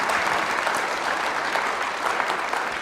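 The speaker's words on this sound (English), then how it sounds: "Let's give Rishi a round of applause" Audience applause for a speaker at the close of an entrepreneurship talk: a dense, even round of clapping from a room full of people, sustained at a steady level.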